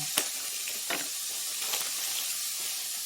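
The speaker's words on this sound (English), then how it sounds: "toss our pork really quick and make sure that's cooking evenly" Pork stir-frying in a pan gives a steady, moderate sizzle, a constant hiss broken by a few brief clicks and stirring scrapes, with no talking.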